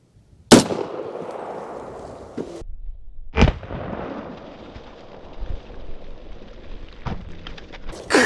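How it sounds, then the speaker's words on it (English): Auto Ordnance M1A1 Paratrooper .30 carbine fired outdoors at targets, two sharp loud gunshots a few seconds apart, each with a long decaying echo, followed by fainter impacts. "Let's see what this carbine does."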